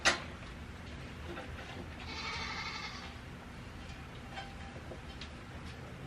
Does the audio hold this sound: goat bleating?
yes